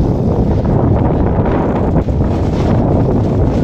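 Strong swirling wind at a shipyard buffets the microphone in a loud, continuous rumbling roar with gusty fluctuations, and no voices are heard.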